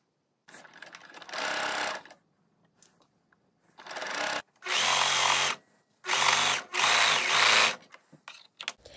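Serger overlocking the raw fabric edge of a shirt bodice side seam, several loud close bursts of whirring stitching separated by quiet pauses.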